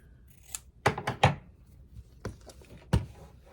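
Scissors trim a sewn strip of scrap quilt fabric with a few quick, separate snips and light thunks, close and fairly quiet, with no one speaking.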